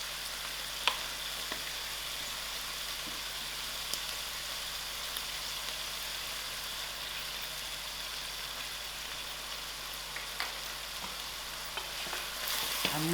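Chicken and mushroom stir fry with soy sauce is stirred in a hot pan, giving a steady, soft sizzle with faint scraping and occasional light clicks throughout, with no talking.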